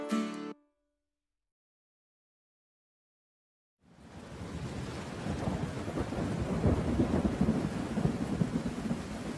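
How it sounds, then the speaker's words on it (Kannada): A short sound cuts off into silence, then thunder and heavy rain rise in as a dense, continuous roar, growing slightly louder and holding steady with no voices. "ಚಿಟಪಟ ಮಳೆಯು ಬಂತು, ಟಿಪ್ ಟಿಪ್ ಟಿಪ್ ಟಿಪ್ ಮಳೆಯು ಬಂತು"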